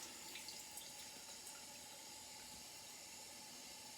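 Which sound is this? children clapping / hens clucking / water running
water running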